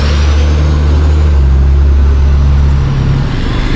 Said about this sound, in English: See the buses coming in here.